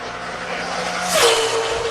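A NASCAR Sprint Cup stock car engine roars at full throttle during qualifying at Michigan, loud and close, its pitch swelling and shifting as the car sweeps past, with faint crowd or track noise beneath.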